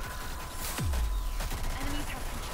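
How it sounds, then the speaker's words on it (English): Gunfire in the third-person shooter Rogue Company, a burst of shots with a low booming sweep, loud and close, over a busy game soundscape with no speech. "Oop, shooting at my own person here."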